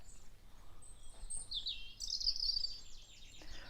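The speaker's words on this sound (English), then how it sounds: "Oh well, being upstaged by a bird now." Songbird singing from a garden tree, a faint high warbling phrase heard at a distance over quiet outdoor background.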